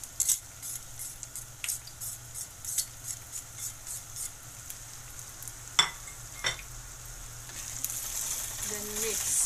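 Crab with turmeric, garam masala, black pepper, Kashmiri chili powder and salt fries in a pan, a steady low sizzle broken by scrapes and clicks of a utensil stirring, close up, with faint talk in the background.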